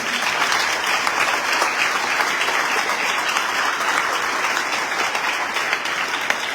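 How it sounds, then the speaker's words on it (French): Sustained applause from a church congregation during a sermon: a thick, continuous wash of many people clapping at once, holding a steady loudness from start to finish without talk on top. "Est-ce qu'on est d'accord à applaudir pour ça"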